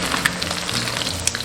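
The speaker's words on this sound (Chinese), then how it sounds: "先给它捞起来，油温升高复炸一遍" Bullfrog pieces being re-fried in hot oil in a wok, a steady crackling sizzle with small sharp pops, close and continuous.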